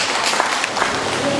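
Audience applause at a village community committee launch ceremony in Sadong Jaya, a steady wash of clapping hands filling the short moment at full loudness.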